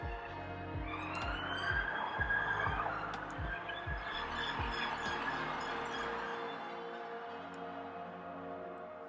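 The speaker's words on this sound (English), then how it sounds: "my apologies for the sirens in the background" An emergency vehicle siren on a road wails with rising and falling tones over steady engine rumble, fairly close then gradually fading.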